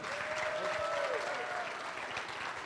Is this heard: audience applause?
yes